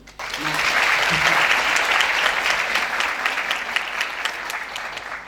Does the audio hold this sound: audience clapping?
yes